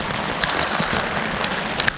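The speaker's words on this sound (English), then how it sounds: "Starting to rain pretty good." Heavy rain at a tent campsite by Rampart Reservoir in Colorado, coming down on a tarp with a fire going nearby, a loud dense hiss marked by a few sharp crackling ticks.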